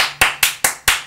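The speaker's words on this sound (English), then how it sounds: "Clap, clap for you" Four slow, deliberate hand claps spaced evenly apart, close and loud, given sarcastically by a lone person in a quiet room.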